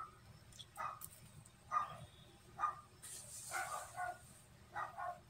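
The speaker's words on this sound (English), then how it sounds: "I don't know if you can hear my dogs in the background" Dogs in another room bark behind a closed door, a series of short muffled barks spaced about a second apart, faint and distant against a quiet background.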